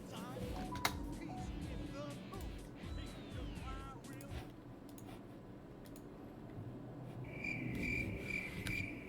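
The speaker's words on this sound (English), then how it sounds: "Crickets." Crickets chirp continuously in a dense insect chorus, with a steady high trill joining near the end, while voices murmur faintly in the background.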